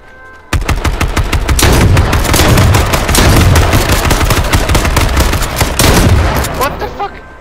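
Rapid automatic AK rifle gunfire in the H1Z1 game, dense continuous bursts of loud close shots that run almost the whole time, with brief voices mixed in.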